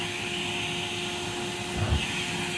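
A vacuum cleaner runs in a steady, loud, close whine, with a brief low thump near the end as it picks up a piece of dirt from the floor.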